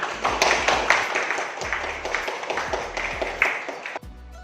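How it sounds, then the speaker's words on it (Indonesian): A classroom of students claps for a classmate, with loose uneven hand claps at close range that stop abruptly near the end. "tepuk tangan untuk Nada Zakari."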